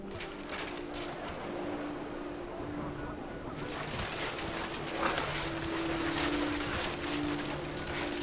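Rain pours down in the video game What Remains of Edith Finch, a soft, continuous hiss of downpour under gentle sustained musical tones, fairly faint throughout.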